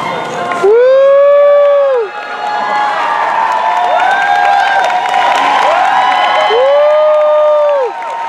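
Audience at an anime masquerade awards ceremony cheers and whoops loudly, with rising ooh-like crowd voices swelling in two big waves amid steady applause and chatter.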